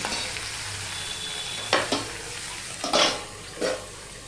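Papaya and tomato stir-fry in a pan with a soft continuous sizzle, broken by a few quick scraping stirs close by, no talking.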